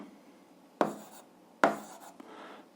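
Chalk or a marker writes an algebra answer on a classroom board, two sharp strokes followed by brief scratchy trailing marks, close and fairly quiet against a faint background hiss.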